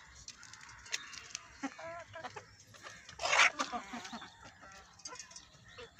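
Desi chickens cluck and chatter on a small farm as they gather for feed, with a cluster of overlapping calls, one louder squawking burst midway and faint talk nearby.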